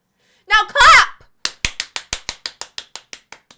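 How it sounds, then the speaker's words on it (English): A regular run of about a dozen distinct hand claps, evenly spaced and slowing slightly, following a short burst of talk. "Now clap!"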